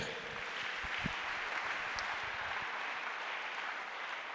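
A congregation at a French-speaking church service applauds steadily, a continuous wash of clapping heard from within the hall, even in level throughout.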